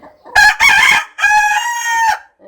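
A rooster crows loudly up close near a hen laying an egg: two short bursts followed by a long drawn-out call, with quiet between.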